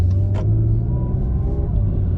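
A new Acura NSX pulling away at low speed, heard from the cabin as a steady low engine rumble with a light rise in tone, close and continuous, without talk.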